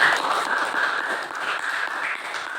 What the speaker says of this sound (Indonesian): Tepuk tangan untuk kawannya Apik Al-Faiz